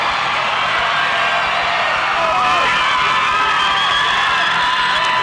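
A home crowd erupts at a girls' high school basketball championship game, loud cheering, whoops and excited shouts blending into a roaring wall of noise that swells midway.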